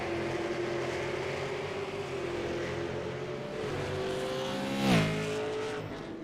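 A race car with its engine droning at the Stafford Stampede, rising to a sharp rev and shift after a spin through the grass, heard at a distance amid track ambience.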